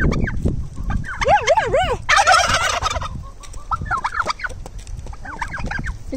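Turkeys outdoors in the cold let out loud, warbling gobbles in several bursts, close by, and a voice briefly speaks among them.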